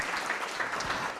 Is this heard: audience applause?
yes